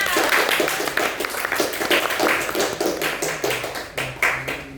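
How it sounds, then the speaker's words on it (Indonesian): Brisk hand clapping from a group in a classroom, steady and fairly loud, with a few taps and faint voices mixed in. "Tepuk tangan semuanya."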